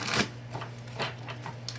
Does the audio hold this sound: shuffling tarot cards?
yes